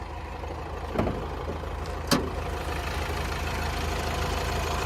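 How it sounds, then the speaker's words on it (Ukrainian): A 2008 Subaru Forester with a 2.0 diesel engine idles with a steady, even rumble. Two brief clicks sound partway through, and no one speaks. "Японський надійний дизельний двигун, все просто, нічого лишнього."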